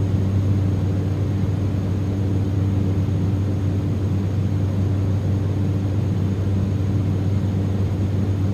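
Steady, droning engine and propeller hum from a Cessna Grand Caravan climbing out over the Canary Islands, a constant low rumble heard from inside the cabin with no talk.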